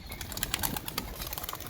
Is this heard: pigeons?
yes